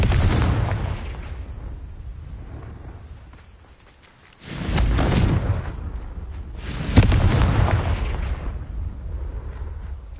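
Confringo blast spells fired in Hogwarts Legacy explode as two heavy, booming blasts a few seconds apart. Each is loud and close with a rolling decay, following a fading rumble.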